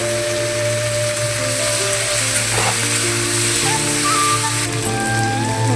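Potatoes frying with tomato and turmeric in a pan, a loud, close, steady sizzle with faint scraping of stirring throughout and no voices.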